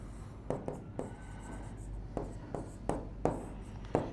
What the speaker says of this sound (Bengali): আর এটার জন্য আমি এখানে লিখে দিচ্ছি